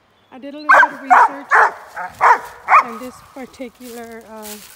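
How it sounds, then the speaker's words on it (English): A dog barks five times in a quick, loud, close series, then gives a few whining yips, while someone talks alongside it outdoors near an unmarked cemetery. "Sorry about my dog."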